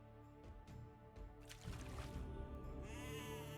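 Game sheep bleating from inside a mill in Age of Empires during a tournament match, several short tonal bleats over a dense layer of game sounds, with a rising hiss of other effects toward the end.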